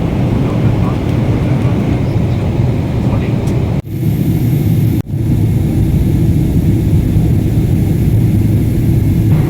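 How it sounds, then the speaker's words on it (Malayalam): Steady loud airplane cabin roar as a flight descends to land, a broad low engine drone filling the whole clip with two brief dips partway through. "കുറേ നേരത്തെ നമ്മുടെ ഫ്ലൈറ്റ് യാത്രയ്ക്ക് ശേഷം നമ്മൾ ലാൻഡ് ചെയ്യാറായി."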